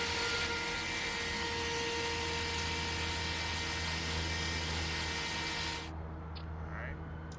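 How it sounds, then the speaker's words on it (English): Constant electric whine and hum with steady tonal lines as a GP38 diesel locomotive's fuel pump primes in Train Sim World 5, then the noise drops off abruptly near the end, leaving a quieter background. "fuel pump on, so now we want to go ahead and prime it up"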